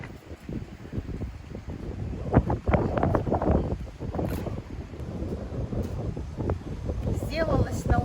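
Strong hurricane wind in Cuba rumbles and buffets a microphone in uneven gusts, low and forceful throughout, with a person talking over the roar.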